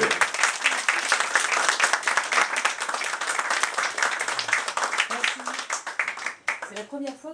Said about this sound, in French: On les applaudit, mesdames et messieurs